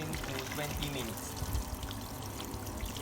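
Running water poured onto a burned hand as first aid, a steady continuous pour and trickle heard close up through the whole moment, with a voice talking over it.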